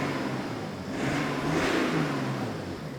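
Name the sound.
BMW 335d engine and exhaust revving with DPF in place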